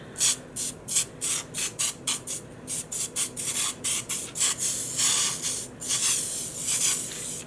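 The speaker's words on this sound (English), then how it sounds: "I will pump it up some more, trying to keep the nozzle down" A pressurized pump spray bottle applies dye onto yarn in a long series of short, sharp hissing bursts with brief gaps between them, close and moderately quiet.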